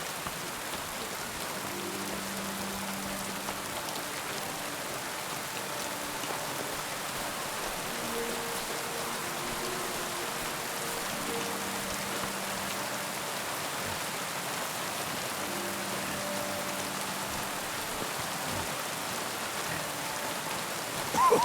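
Steady rain pours in the medieval video game Kingdom Come Deliverance 2, a dense even hiss of drops on surfaces that lasts throughout, with faint low tones beneath and no speech.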